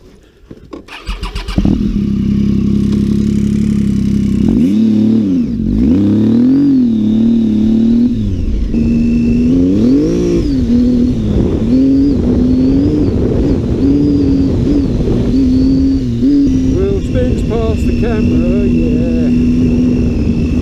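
A Triumph Tiger 800 XCA motorcycle engine starts up and then runs close and loud on a green-lane trail ride, revving up and down in repeated swells before settling into a steady throb.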